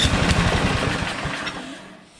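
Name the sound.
John Deere 726 snowblower engine firing up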